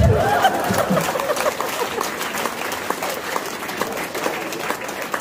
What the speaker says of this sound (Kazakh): Қорықпайтындар шапалақ ұрып жатыр.